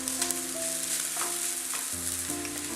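Cooked chicken pieces are mashed with a ladle in a hot pan, with steady sizzling and frying throughout and soft scraping and stirring over it, close and moderately loud, with no voices.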